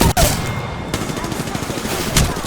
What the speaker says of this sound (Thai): โอ้โหยิงไม่โดนเลยเนี่ย